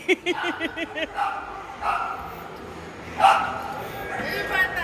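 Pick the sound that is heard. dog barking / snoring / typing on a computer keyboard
dog barking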